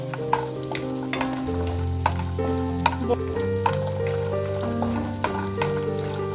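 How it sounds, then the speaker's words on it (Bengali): Homemade bori (lentil dumplings) frying in hot mustard oil, a steady close sizzle with faint crackles and occasional stirring clinks, no voices. "এবার আমি এর মধ্যে দিয়ে দেব বড়ি বড়িটাকে হালকা করে ভেজে নেব"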